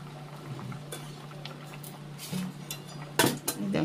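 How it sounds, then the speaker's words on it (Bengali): Five kakrol (spiny gourds) boil vigorously in a pot of water on a gas stove, a steady bubbling churn with scattered clinks of pot and utensil rising toward the end. "এখানে 5টা কাঁকরোল সেদ্ধ করে নেবো 5 মিনিট, একদম টকবক করে ফুটছে।"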